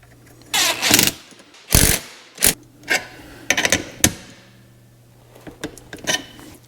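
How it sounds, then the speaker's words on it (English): A ratchet wrench tightens the seat rail nuts on a classic Mustang. Close, loud bursts of rapid clicking ratcheting come in irregular short strokes, followed by softer metallic rubbing, with no talking. "You're going to want to torque these to about 14 pounds or so, just to make sure they're nice and secure."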